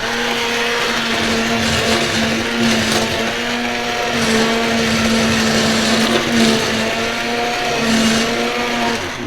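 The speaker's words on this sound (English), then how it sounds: "hand blender out and puree this whole thing here" A hand blender purees Danish-style yellow split pea soup on the stove, a loud, continuous motor whine with a steady pitch that shifts slightly as the blade moves through the thick soup.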